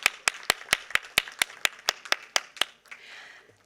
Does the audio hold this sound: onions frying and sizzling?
no